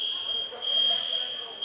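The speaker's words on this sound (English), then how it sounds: "That's the fire alarm." Fire alarm going off in a school gymnasium during a high school girls basketball game, a steady high-pitched electronic tone holding constant for the whole moment, moderately loud against faint room noise.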